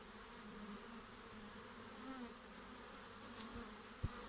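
Honey bees hum in a steady, even drone around an open hive during an inspection, with a single sharp knock near the end.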